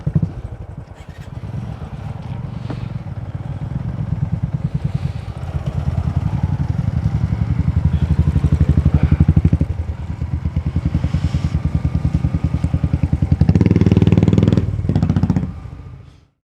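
Motorcycle riding a snowy mountain road toward Gangotri in winter, its engine a steady close thumping drone with rattling clatter, briefly surging louder near the end before cutting off.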